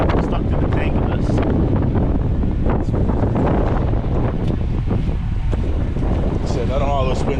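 Wind gusting across open onion fields beside a drainage ditch with water pumps, a steady broadband rumble and buffeting on the microphone throughout, fairly loud and continuous with a brief whistle-like tone near the end.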